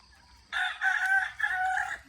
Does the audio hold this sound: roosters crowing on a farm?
yes